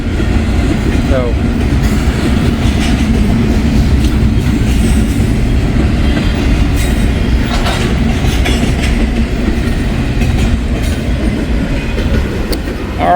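Freight train rolling past on hot rails near a depot, a continuous loud rumble with clickety-clack of wheels and occasional metallic squeals, steady throughout.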